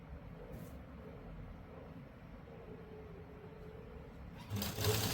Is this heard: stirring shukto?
no